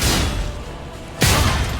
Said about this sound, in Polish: niech ona sobie robi ten wybuch